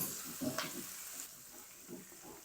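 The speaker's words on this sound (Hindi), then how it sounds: "ये जो लहसुन है ना ये डालेंगे, और हरी मिर्च डाल देंगे। इनको 1 मिनट तक ना हमने फ्राई कर लेना है।" Garlic and green chillies fry in hot oil with cumin for a dhaba-style masala bhindi, giving a steady close sizzle and hiss with a few soft stirring scrapes.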